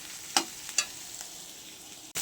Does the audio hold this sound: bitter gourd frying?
yes